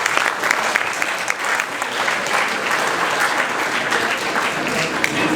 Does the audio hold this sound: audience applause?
yes